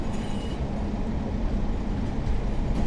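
A train from the game Train Sim World 5 on the West Coast Main Line between Preston and Carlisle runs with a steady, loud rumble and a low droning hum, continuous throughout with no talking.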